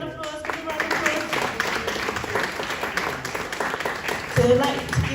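Sustained audience applause at a Leicester panel event continuing for women on stage, a dense even wash of clapping with voices mixed in beneath.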